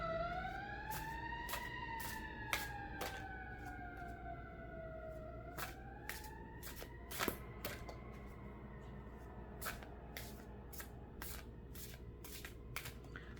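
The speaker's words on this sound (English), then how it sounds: "Pardon all those sirens." Wailing emergency vehicle sirens rise and fall steadily near a highway over a constant low rumble of traffic, with sharp clicking taps scattered throughout.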